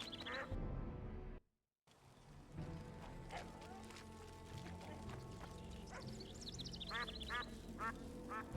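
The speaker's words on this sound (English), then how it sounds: "Quack, quack, quack." Ducks quack in a peaceful forest in The Witcher 2, a few short nasal calls in bursts near the end over faint ambient game sound, with a quiet voice briefly in the background.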